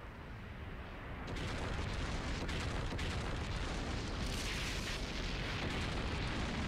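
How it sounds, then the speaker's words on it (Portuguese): An explosion effect in a Dragon Ball roleplay fighting game with Goku, Jiren, Vegeta and Zamasu erupts into a loud, sustained roaring blast that swells after about a second and keeps rumbling steadily, with no talking. "agora explodiu."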